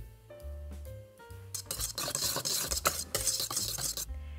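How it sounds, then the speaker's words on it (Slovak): Egg yolks are folded gently into stiffly whipped egg whites in a bowl, a soft scraping and swishing of utensil through foam with a few light taps against the bowl, over faint background music. "Teraz k nemu primiešame zľahka žltky"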